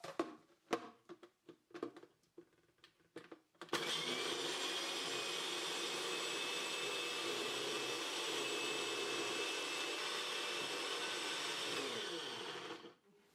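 A kitchen blender purees spices with olive oil and a little water for grilled mackerel. A few light clicks and knocks come first, then the motor starts with a sudden whirring roar that holds steady for about nine seconds before it cuts off.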